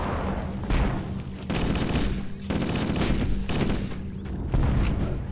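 Heavy gunfire in the video game Halo: Combat Evolved, with repeated loud booming bursts roughly every second that overlap into a dense, continuous barrage.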